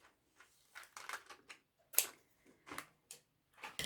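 Fabric bias binding for zipper trim is cut, giving a quiet, close series of crisp, irregular snips and clicks with short pauses between them.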